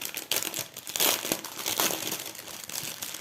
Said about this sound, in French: je vais prendre des ciseaux pour séparer mes sachets.